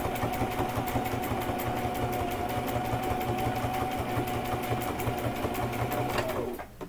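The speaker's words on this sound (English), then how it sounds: "You start sewing, back stitch, then sew right across our line" A sewing machine stitching fabric for a casserole carrier runs at a steady fast buzzing rhythm close by, stopping abruptly near the end.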